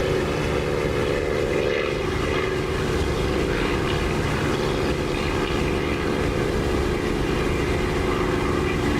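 Steady propeller aircraft engine drone in level flight in the DCS flight simulator, a loud, unbroken hum with a slight shift in tone partway through, heard alone without speech.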